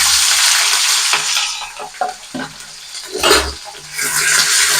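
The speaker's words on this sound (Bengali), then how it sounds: "এগুলোকে খুব অল্প আঁচে ভাজবো, যাতে এগুলো কালারটা পাল্টাবে না" Capsicum, onion and green chilli sizzle and fry over low heat in a wok, a steady close crackle broken by a few stirring scrapes and clinks.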